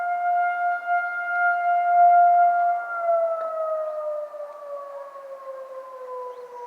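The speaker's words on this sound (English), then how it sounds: "Yeah, there is a siren at the left" A tornado warning siren tested in Garden City, Michigan wails alone at a distance, a steady two-tone civil defense tone that slowly glides lower as it rotates away.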